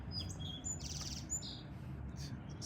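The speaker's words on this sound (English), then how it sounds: "Song sparrow." A song sparrow sings in short high chirping phrases, faint and somewhat distant, over a steady low rumble of outdoor background noise.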